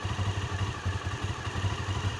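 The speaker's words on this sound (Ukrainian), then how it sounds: "як буде звук двигуна і мій голос разом" An engine runs steadily close by, a rough mid-pitched idle with a regular throbbing pulse and light clatter, heard alone.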